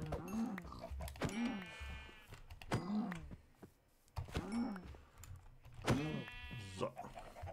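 Sheep in the video game Minecraft bleat repeatedly, several wavering baa calls close by spaced about a second apart, with light keyboard-like clicks between them.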